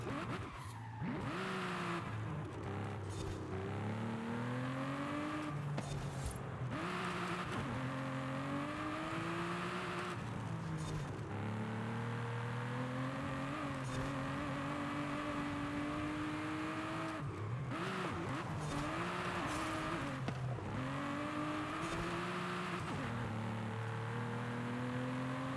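Aston Martin race car in a racing video game, its engine droning steadily at high speed with rising and falling revs and tire squeal through corners, running continuously with no talk.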